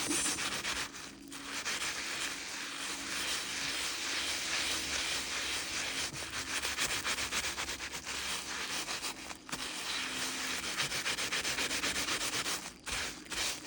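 Steady hand rubbing of a wet needle-felted wool patch, a continuous close scrubbing friction held for the whole stretch with only brief pauses, no voices.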